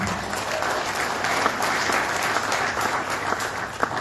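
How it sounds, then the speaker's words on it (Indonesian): Party members at a Democrat party iftar gathering in Indonesia break into applause, a steady, moderately distant crowd clapping that continues evenly for about four seconds. "Boleh tepuk tangan."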